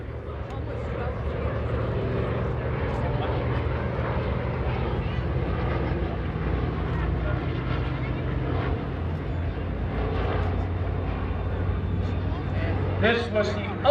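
Douglas C-47 transport airplane flying past at a warbird airshow, a steady droning engine roar heard from a distance beneath continuous announcer talk.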